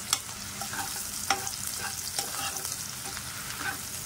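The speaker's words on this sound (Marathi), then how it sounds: "कांदा आपण छान परतवून घेऊया।" Finely chopped white parts of spring onion sauté in a pan with a steady crackling sizzle, broken by a few sharp scrapes of stirring, close and alone with no voices.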